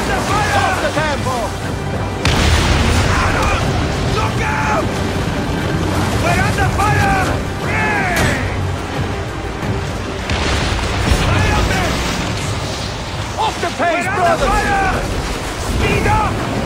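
Booming cannon fire and explosions ring out during a naval battle at sea in Assassin's Creed Origins, heavy repeated blasts over wind and water, with people shouting and talking throughout.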